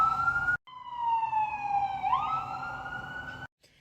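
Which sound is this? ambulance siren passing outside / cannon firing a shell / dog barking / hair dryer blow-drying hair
ambulance siren passing outside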